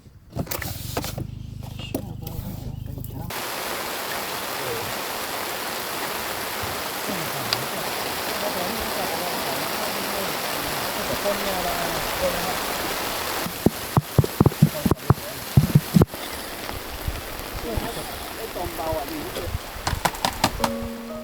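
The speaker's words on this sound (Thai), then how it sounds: "พวกเราก็ถูกต้อนรับด้วยสายฝนเลย" Rain falls steadily outdoors at a riverside spot where anglers are fishing for giant tilapia, a dense continuous hiss throughout, with some clattering handling sounds toward the end.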